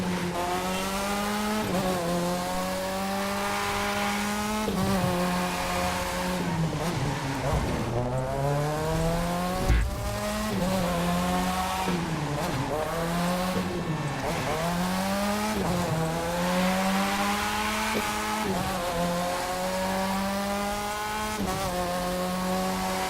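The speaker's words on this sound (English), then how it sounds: "Sometimes you could do late drift like that" Car drifting in the racing game The Crew 2: a steady engine hum rises and falls as the revs swing, with drawn-out tire squeals through repeated slides and someone talking over it.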